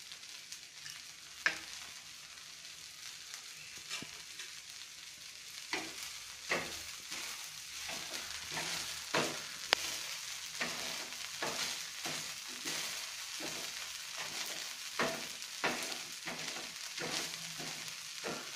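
Onion tomato dosa cooking in oil on a hot pan, giving a soft continuous sizzle broken by frequent light scraping taps of a spatula throughout.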